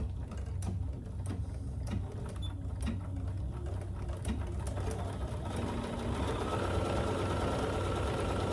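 A sewing machine fitted with a quarter-inch presser foot stitches steadily while a tote bag is sewn, a continuous mechanical whir with rapid regular needle ticks running close and alone throughout.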